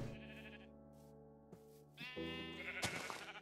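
Sheep bleat in Minecraft, several drawn-out wavering calls in a row, close and fairly clear over faint background sound.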